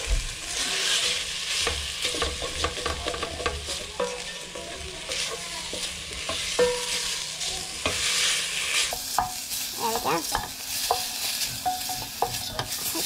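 Garlic, ginger, onions and pork stir-frying in a pan, a continuous loud sizzle broken by frequent scraping and clacking strokes of a utensil against the metal, close and busy, with no talking.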